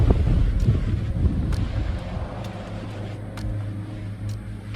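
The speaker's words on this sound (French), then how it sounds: "Il y a du vent à plus de 100 km/h" Strong wind gusting through a forest on Madeira at over 100 km/h, a steady broadband roar with low rumbling buffeting on the microphone throughout, loud and continuous with no voices.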